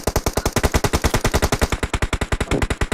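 Rapid automatic gunfire from a shooter video game, a loud, steady stream of closely spaced shots lasting several seconds without a break.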